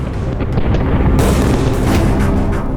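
Explosions and artillery fire at the siege of Mantua, a dense, loud, continuous rumble of booms and blasts with sharp bursts layered over a heavy low roar, with no speech.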